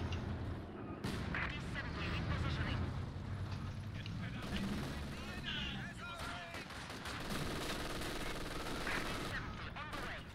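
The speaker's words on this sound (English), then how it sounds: "I hear the tank." Heavy rumbling combat din from a tank in a 4v4 online war game, booming blasts and gunfire rolling continuously at high level, with players talking over the battle throughout.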